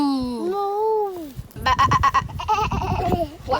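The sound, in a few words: child imitating a little dolphin noise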